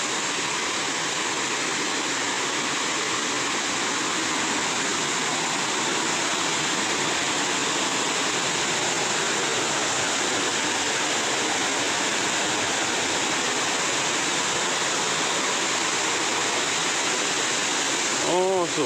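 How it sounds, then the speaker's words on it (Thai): Mae Aeb waterfall at Mae Chaem, Chiang Mai, roars as a constant, dense rush of falling water that fills the whole stretch, loud and close, with no breaks. "นี่คือน้ำตกแม่แอบนะครับเดี๋ยวเราจะเข้าไปดูใกล้ๆนะครับ"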